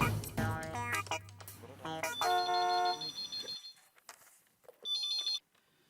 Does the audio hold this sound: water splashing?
no